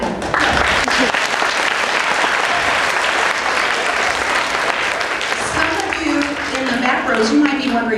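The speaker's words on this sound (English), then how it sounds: "Let's clap for them." Applause from the audience at a fifth grade school program, a steady wash of clapping hands filling the room for several seconds, with some voices mixed in.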